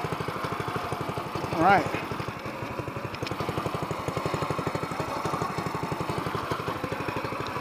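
A small fishing-boat outboard motor chugs steadily at idle after a start, a low even pulsing engine throb close by, with someone briefly speaking over it.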